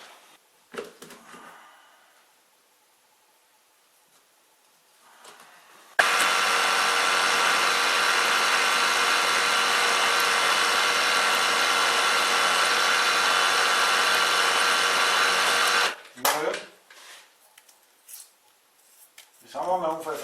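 A power drill runs at a steady high whine for about ten seconds, drilling a 5 mm core hole for an M6 thread, bracketed by brief handling noises and short bits of talk before and after.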